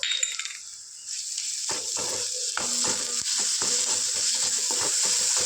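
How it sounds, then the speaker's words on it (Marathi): Masala paste dropped onto fried onions in a hot pan for mutton curry, setting off a loud, continuous close sizzle with rapid crackling and intermittent stirring scrapes after a brief quieter start. "कांदा चांगला भाजलेला आहे आता आणि आपण हे जी पेस्ट काढली ती ना ती थोडीशी टाकूया ह्याच्यात आता"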